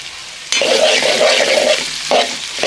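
Finely chopped tomato pieces hit a hot pan for a village-style snail curry and start sizzling loudly, with scraping stir strokes running through the frying and a short break before a final stir.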